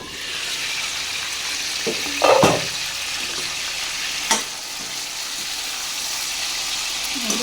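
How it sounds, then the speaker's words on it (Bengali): Chicken fries in a pan with black pepper, giving a steady close sizzle with a few louder stirring clatters and scrapes along the way. "গোলমরিচ দিয়ে চিকেনটাকে ভালো করে ভেজে নিয়েছি"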